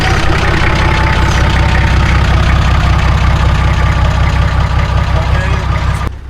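The turbo TD42 diesel engine in a Nissan Patrol GQ runs loudly and close by with a steady rhythmic clatter, holding a constant pulsing drone for several seconds before briefly cutting out at the end.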